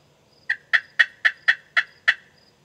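A slate pot turkey call played while held down against the body, giving seven evenly spaced, clipped yelping notes that sound somewhat muffled, close and alone.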